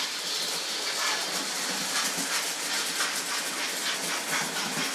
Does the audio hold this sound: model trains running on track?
yes